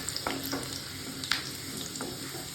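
Tadka tempering in hot oil, a steady close crackling sizzle with a few light clinks of stirring throughout.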